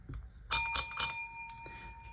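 A small hand bell, likely a bicycle-style bell, rings three quick bright dings close up, and the metallic tone rings out and fades afterward.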